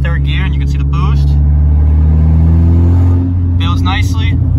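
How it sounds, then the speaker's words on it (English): Saab car engine revving up to about 3000 rpm in third gear with a MAP sensor retrofit, a loud steady droning rumble that rises in pitch throughout, with someone speaking briefly over it at the start and end. "I'll go to 3 grand in third gear and you can see the boost"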